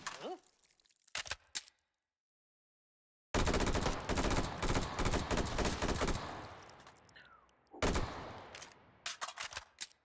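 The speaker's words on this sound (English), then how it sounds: "Oh, who's shooting me?" Gunfire in the VR game Hot Dogs, Horseshoes & Hand Grenades, with a few short bursts, a sudden silence, then a long loud stretch of rapid automatic shots followed by more bursts.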